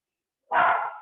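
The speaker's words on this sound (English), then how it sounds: "sorry, dog's going mental" A dog barks once, loud and close, in a quiet room during a stretch and flex exercise class; the single sharp bark starts midway and trails off.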